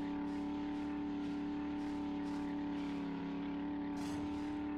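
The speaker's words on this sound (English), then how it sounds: "The topped off engine sound I never really liked that much." A vehicle engine from the video game 7 Days to Die, modded in Alpha 18, holds a steady, loud droning hum with faint periodic surges of revving over about five seconds, without speech.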